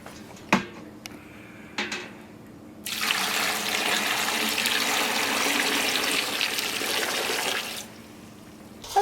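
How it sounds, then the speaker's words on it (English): Salt brine pours over pickles in a jar, a few light clinks first, then a steady, loud rushing stream of liquid for about five seconds before stopping. "And we're going to pour this"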